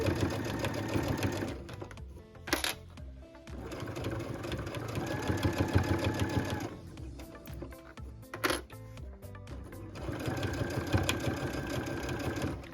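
Sewing machine stitching binding onto a fabric tablet sleeve, running in long steady bursts with brief pauses between, close and fairly loud, with no talking.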